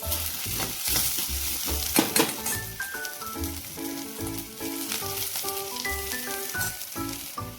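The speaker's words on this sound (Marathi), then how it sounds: "छान लाल झाल्यानंतर त्यात कोथंबीर कढीपत्ता टाकून घेऊ" Coriander and curry leaves hit fried onions in hot oil, raising a loud crackling sizzle with stirring scrapes throughout, set against steady background music.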